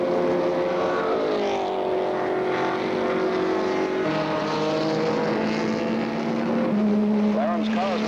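1964 race cars at Bahamas Speed Week, including McLaren's car, drone past with sustained engine whine that shifts pitch as they move, a continuous mid-distance roar with a commentator talking over it.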